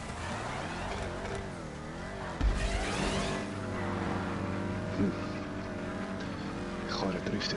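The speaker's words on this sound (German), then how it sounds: "Die Karre driftet einfach zu viel." A drifting car engine in GTA V on PS4 whines and revs with wavering pitch, sliding up and down as the car slides, loud and continuous with a brief louder burst midway, and a faint voice underneath.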